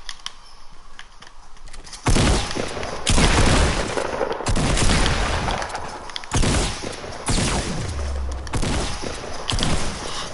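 Bursts of video game gunfire in Fortnite, several rapid volleys and booming shots in clustered salvos, loud and near, with brief pauses between the firing.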